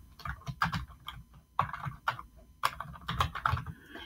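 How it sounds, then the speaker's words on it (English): Close, crisp keystrokes on a computer keyboard as an email address is typed, coming in quick uneven clusters with short gaps between them. "you just type in their email address."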